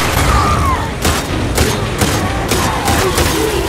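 Bomb blasts and gunfire in The Last of Us Part II, a dense run of booming bursts and rattling shots that stays loud and continuous throughout.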